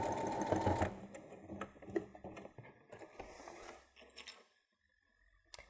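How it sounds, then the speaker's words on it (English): A sewing machine stitches the lining seam of a travel pouch at a 1/4 inch seam allowance, a close mechanical whirr with ratcheting clicks that eases off into a few quieter taps. "just stitch until you get back to your 1/4 inch seam allowance where you started off"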